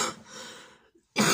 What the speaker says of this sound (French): je fais que tousser